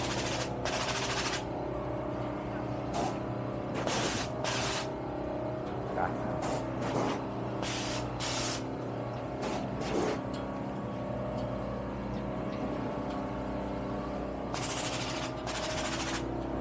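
A Foltex towel-folding machine runs continuously, producing a steady mechanical hum with repeated sharp clacking bursts and rattles at irregular intervals, close and fairly loud.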